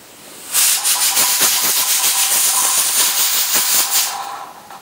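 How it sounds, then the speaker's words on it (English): Loud, steady hiss of steam escaping a weighted-gauge pressure canner, pulsing with a rapid rattling rhythm as the weight jiggles, starting abruptly and tapering off after a few seconds. "how the weight style pressure canner releases the excess steam"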